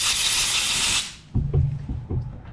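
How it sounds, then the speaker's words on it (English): Compressed air blasts through the rear brake bleeder valve on a Ducati motorcycle, a loud steady hiss for about a second before it cuts off, followed by lower knocking and handling sounds up close. "Blow out the bleeder"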